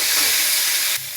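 Elephant foot yam stalks hit hot oil in a pan with fried onion and garlic, giving a loud, steady hissing sizzle that drops abruptly quieter near the end.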